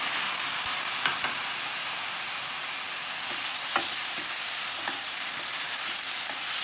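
Chopped tomatoes sizzle steadily in a pan for a butternut squash coconut curry, making a constant hiss that is close and moderately loud, with a few light stirring knocks and no talk.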